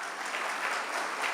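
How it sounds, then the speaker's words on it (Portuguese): Church audience clapping steadily together, a dense wash of applause that holds at an even level from start to finish with no voices over it. "Salve de palmas para esses dois irmãos"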